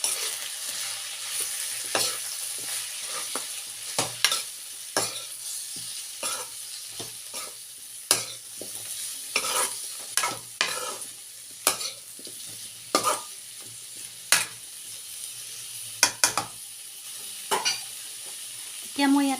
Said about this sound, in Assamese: এতিয়া মই খুব ভালদৰে মিক্স কৰি ল'ম।